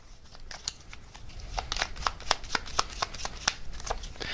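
Message cards are shuffled close up in quick, crisp flicks and riffles. The rhythm is irregular and builds in density over a few seconds against a quiet room.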